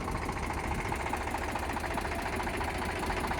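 A tractor fitted with a double PTO runs with the PTO fully engaged, giving a steady, dense mechanical drone and rapid knocking rattle close by, unbroken and without speech.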